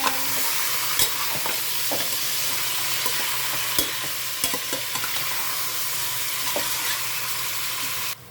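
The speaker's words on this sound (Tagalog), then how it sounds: "ang atong gigisa nga chicken" Chicken sautés in a pan and sizzles steadily for tinola, with a loud, even frying hiss. Scattered clicks and scrapes of stirring sound close by, and no one speaks.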